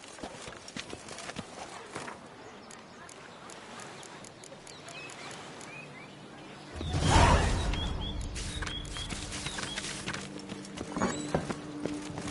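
Roach the horse trots with steady clip-clopping hooves in The Witcher 3: Blood and Wine, starting faint, then growing louder and closer midway amid outdoor ambience.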